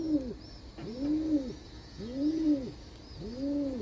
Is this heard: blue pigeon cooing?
yes